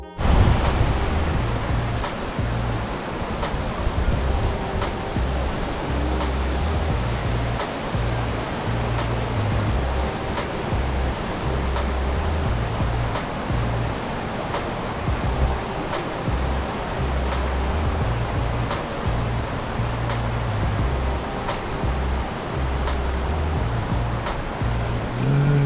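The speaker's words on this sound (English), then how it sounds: "I think we're getting closer to the top of the waterfall" A waterfall rushes in a constant broadband roar from nearby, steady and unvarying, with faint regular ticks running underneath.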